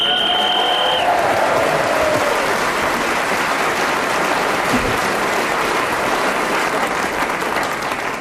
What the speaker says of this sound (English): I must thank our audience here for that wonderful cheer you gave for Sale of the Century.